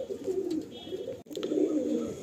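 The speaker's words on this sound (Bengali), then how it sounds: "এই দুটো পায়রা এক সেট কালাঙ্কা পেয়ার ফার্স্ট সেলে রাখা হলো" A pair of Kalanka pigeons cooing in a cage, soft repeated low throaty coos with a brief pause midway, close but fairly quiet against faint background noise.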